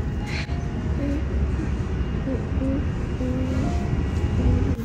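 A Swiss train travels from Zurich toward Zermatt, heard from inside. Its steady rumble runs throughout, with faint, brief squeals and tones scattered over it.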